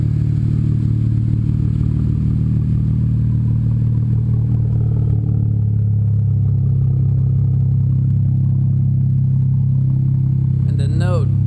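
A BMW 335i with an HPF 3.5-inch stainless steel exhaust and downpipes idles warm, giving a steady, deep, loud drone that holds throughout with a slight rise in tone near the end.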